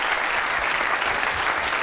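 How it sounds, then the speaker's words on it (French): Steady, dense applause from a crowd, loud and continuous throughout with no talking over it. "On peut l'applaudir très, très fort."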